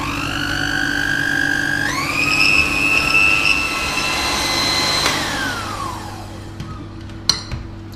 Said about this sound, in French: maintenant je vais avec mon batteur électrique blanchir donc mes œufs et le sucre pendant 5 bonnes minutes sur vitesse plutôt forte